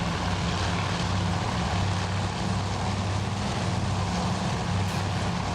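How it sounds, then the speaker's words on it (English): Propeller-driven torpedo bombers in the naval strategy game Task Force Admiral, heading toward an enemy carrier; a steady, loud engine drone with low propeller hum runs unbroken throughout, no talking. "We got these torpedo bombers. They're going in on, I'm guessing,"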